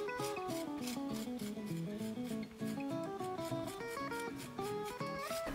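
A hard metal plate roughly scrapes a piece of wood in steady, repeated rasping strokes. The scraping is close-up and sits under tuneful background music.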